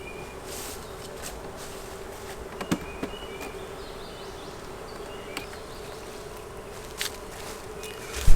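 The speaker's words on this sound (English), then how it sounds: "I'm gonna let some bees just naturally drift over" Honey bees hum steadily around a hive holding a queen, with individual bees zipping close past at moments and a soft thud at the end.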